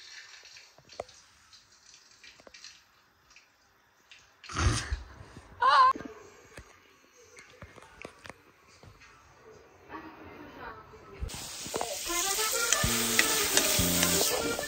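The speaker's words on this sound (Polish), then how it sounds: "robimy spaghetti bolognese" Spaghetti bolognese sauce being stirred and fried in a pan, a few scraping stirs early on followed by a steady, close loud sizzle that builds near the end, with faint talk in the background.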